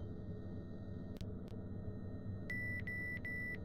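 Electronic beeping from the Bioscopia adventure video game: two sharp clicks, then a run of rapid, evenly spaced high beeps in short bursts over a low steady hum, clear and close.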